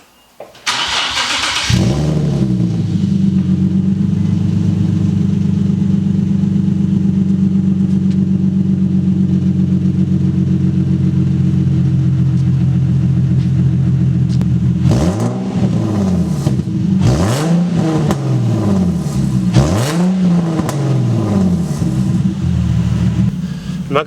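Infiniti G37 with a custom exhaust and no mufflers starts with a burst, then settles into a deep, loud, steady idle for about twelve seconds before three or four sharp revs rise and fall near the end.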